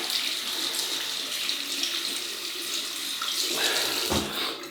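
Water runs steadily from a tap to rinse a bowl that holds Colgate mug shaving soap, a close and continuous splashing hiss that falters near the end.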